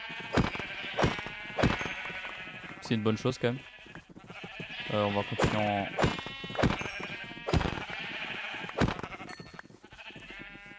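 Blocky sheep in a hardcore Minecraft-style survival game bleat several times, with short game-style calls standing out between stretches of someone speaking French over the game sounds.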